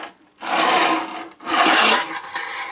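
Tech deck fingerboard grinding along a ramp: two close, loud bursts of scraping, rasping friction, each lasting about a second, separated by a brief gap, with a fainter scrape at the end.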